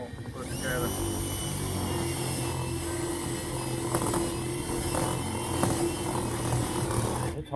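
A power drill with a brand new bit bores through old radial tires, a steady high whine and grinding hum held for several seconds at close range.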